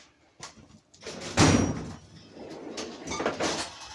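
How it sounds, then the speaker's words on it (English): A metal toolbox drawer is pulled open and pushed shut in a workshop, giving a series of sliding rattles and a solid clunk, moderately close, with no talk over it. "Apologies for the sound of the toolbox drawer."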